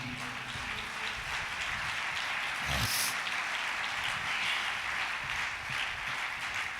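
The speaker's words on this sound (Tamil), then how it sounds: "நல்ல கைத்தட்டி" Congregation clapping through a church worship service, a steady broadband patter of many hands held at an even level for several seconds, with a brief louder swell partway through.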